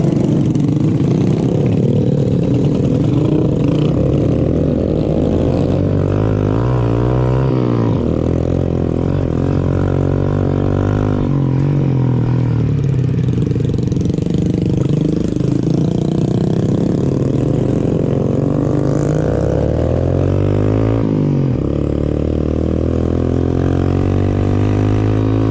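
Several village motorcycles idle and then rev as a group of riders pulls away, a loud, continuous engine drone that rises and falls in pitch close by, with no voices.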